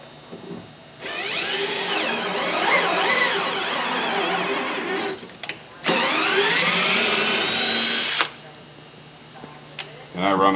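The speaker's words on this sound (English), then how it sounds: "We're just drilling through the fiberglass on this side." A power drill bores through fiberglass in two long, loud runs with a high whining pitch, separated by a brief pause; short bursts of trigger noise follow near the end.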